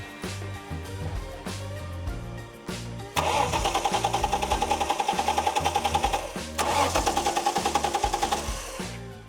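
An R31 Nissan Skyline engine cranks on the starter during a compression test: a quieter, uneven start, then two loud bursts of rapid, even chugging pulses, separated by a short break, close up.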